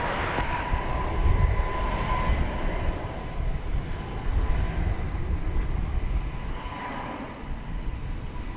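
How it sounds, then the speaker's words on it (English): An airliner, Flight 1366, takes off from runway 17 right at DFW Airport, a steady broad engine roar held loud and continuous throughout with no voices. "Flight 1366 is now going to be taking off on 17 right."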